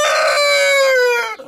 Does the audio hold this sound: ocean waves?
no